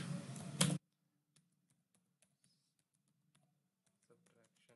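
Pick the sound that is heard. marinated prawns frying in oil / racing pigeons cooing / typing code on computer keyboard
typing code on computer keyboard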